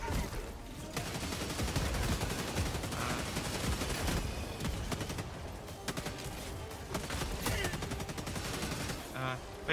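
Rapid automatic bursts from an autocannon sentry in the video game Helldivers 2, dense continuous gunfire and impacts filling the whole stretch amid battle noise against automaton enemies.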